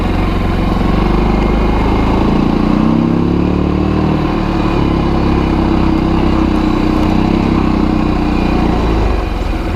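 A Kazuma Jaguar 500 4x4 ATV engine runs loud and steady at close range, droning continuously with slight shifts in pitch and no speech.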